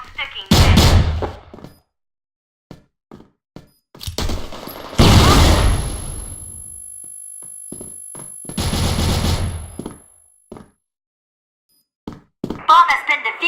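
Shotgun blasts in a Counter-Strike-style shooter: a few heavy, booming bursts spaced several seconds apart, each with a long decaying tail, separated by quieter clicks and handling sounds, with game voice callouts in between.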